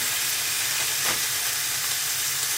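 A whole package of bacon sizzles and hisses steadily in a pan, with a constant broadband crackle and a brief louder spit near the middle.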